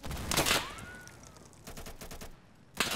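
Rapid bursts of video game gunfire from Insurgency crackle at the start and again near the end, with a rising whistle and quieter rattling shots in between.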